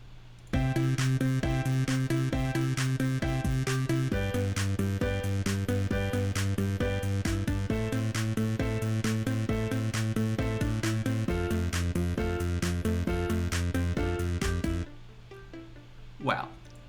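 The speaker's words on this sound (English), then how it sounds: "I add some plucks, some drums, and some bass, and all together they sound like this." A full pop arrangement combining piano chords, plucked synth notes, drums and bass plays loudly in a steady rhythmic loop with changing chords, then cuts off near the end.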